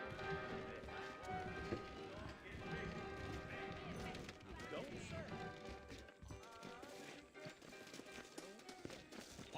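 Horse hooves clip-clop steadily in Red Dead Redemption, a close, rhythmic trotting patter that runs under music and game ambience throughout, with occasional heavier thuds.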